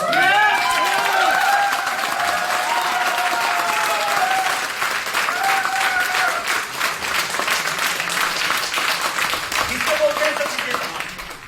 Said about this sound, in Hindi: एक बार तालियां थोड़ी जोर